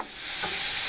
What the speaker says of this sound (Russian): И мы добавляем морковку в сковородку.